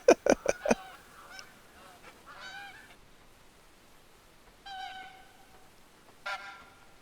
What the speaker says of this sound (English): Hey, geese, you going to come down?